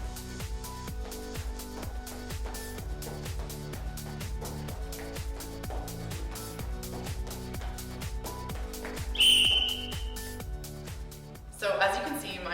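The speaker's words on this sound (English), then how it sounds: "before the whistle went" A short whistle blast cuts through steady rhythmic background music near the end of a timed fitness agility test, followed by a brief noisy burst; no one talks.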